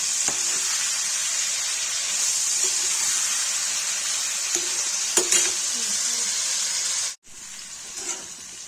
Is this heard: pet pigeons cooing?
no